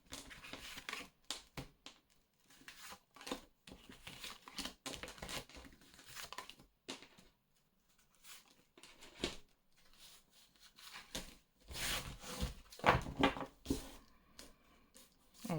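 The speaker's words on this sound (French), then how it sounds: "je replace mes cartes" Tarot cards being handled and put back into the deck, soft crinkly shuffling, sliding and tapping in irregular bursts, close up and quiet, with no voices.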